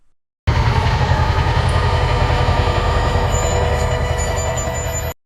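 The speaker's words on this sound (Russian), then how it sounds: "может это какой-то эффект старинного паровоза" Steam locomotive-like rumble in an AI-generated music track: dense, steady rolling roar with faint high squeals, continuous and loud throughout.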